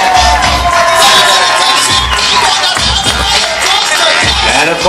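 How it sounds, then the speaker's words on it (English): A loud circus crowd in an arena cheers, whoops and shouts continuously, with children's shouts mixed into the roar and a few heavier bursts through the stretch. "big round of applause for our Shawnee Clown volunteer"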